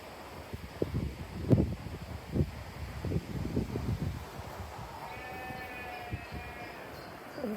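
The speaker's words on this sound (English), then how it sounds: "And there's those sheep." A sheep gives one drawn-out, wavering bleat from some distance, heard over gusting wind and a few soft thuds.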